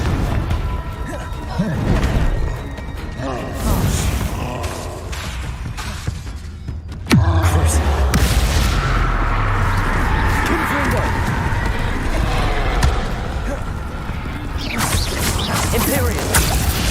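Confringo explosion spell in the video game Hogwarts Legacy, loud whooshing casts followed by booming blasts and crashing impacts, with a heavy detonation at the midpoint and rumbling debris after, under occasional voices.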